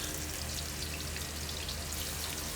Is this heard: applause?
no